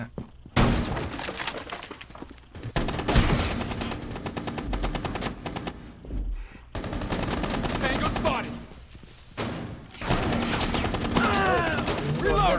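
Gunfire in the mobile shooter game Rainbow Six Mobile, with dense, continuous automatic bursts and sharp impacts running throughout, plus a player talking over the action.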